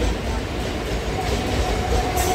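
A Mumbai local commuter train rumbles past close by at Dombivli station, a steady, heavy rolling roar with faint rattling wheels and a brief hiss near the end.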